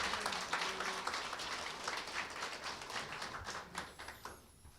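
Congratulatory applause at a Jongno district office award ceremony during a staff meeting, where commendations are handed out: a soft, steady patter of many hands clapping from a modest room crowd, fairly faint and continuous, dying down toward the end.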